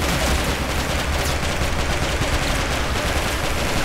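Sustained rapid gunfire from a PPSh submachine gun in the Quantum of Solace video game, a loud continuous rattling burst that fills the whole stretch without pause or talk.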